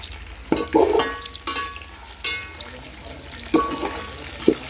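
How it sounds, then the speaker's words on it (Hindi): Chicken pieces fry in a pan with already-browned onions for chicken pulao, giving a steady close sizzle broken by several clattering stirs and scrapes of a utensil against the pan. "चिकन को 4 से 5 मिनट के लिए हम फ्राई करेंगे।"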